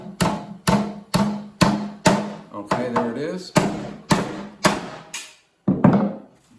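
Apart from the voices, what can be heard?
hammering wooden parts of car seat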